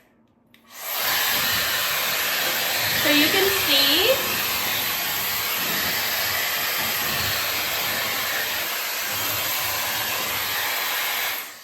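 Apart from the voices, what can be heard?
hair dryer running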